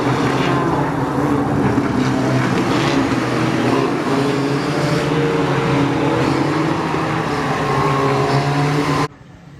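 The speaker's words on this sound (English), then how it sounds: "the green flag dropped and it was a pretty equal start for me in the 764 car" Race cars roar off at the start of a final on the wet Cowdenbeath Racewall oval, a loud, dense, steady engine drone that holds for about nine seconds, then cuts off abruptly.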